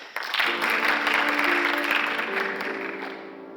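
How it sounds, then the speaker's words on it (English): A theatre audience at a musical bursts into applause, a dense wash of clapping that starts suddenly and fades slightly, with a faint sustained tone underneath. "The audience applauds out of habit."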